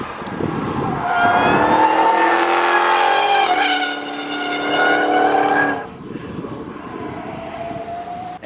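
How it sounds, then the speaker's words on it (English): Supercharged Dodge Hellcat Charger lapping a race track sideways, its engine howling loudly through rising and falling revs with tire squeal as it slides, then dropping back to a lower drone as it passes. "And that is how you lap the track in a Hellcat Charger, completely sideways."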